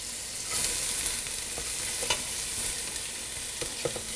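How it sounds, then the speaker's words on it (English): Carrots and onions dropped into a pot of smoking-hot olive oil give a constant, even hiss of frying, with faint, occasional ticks and pops rising over it. "I've got my pot smoking hot with the olive oil in it"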